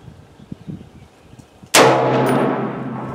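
A single loud gunshot from a Garage Gun 6.5 Creedmoor rifle firing 130 grain moly-coated bullets cracks sharply after quiet range ambience and leaves a long, ringing tail.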